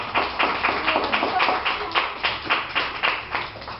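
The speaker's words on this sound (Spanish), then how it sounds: "Y un aplauso para el licenciado" An audience at a book presentation applauds a guest, a steady run of brisk, evenly spaced claps from a small group close by.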